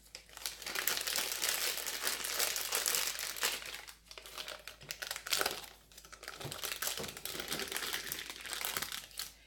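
Fortune cookie batter is handled and squeezed into a crinkly plastic pastry bag, giving continuous close rustling and crumpling for most of the span, with short pauses and no talk.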